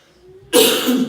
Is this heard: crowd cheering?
no